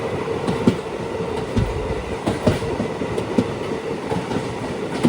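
A train rolls steadily along the rails between Talguppa and Shivamogga, wheels clattering in a loose rhythm with a constant low rumble, fairly close and with no voices.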